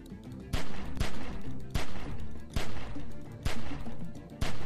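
Rhythmic gunfire in The Walking Dead: 400 Days, loud sharp shots cracking about every half second over a steady roaring background, with no talk.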